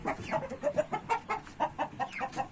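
Nervous hens cluck in a small backyard coop with a fan running, a steady run of short, rhythmic clucks and murmurs at moderate, close range with no talking.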